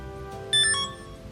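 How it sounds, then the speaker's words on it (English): A Sony FDR-X3000 action camera gives a short run of clear, high electronic beeps, several quick tones close together, over a quiet background. "These beeps are driving me insane."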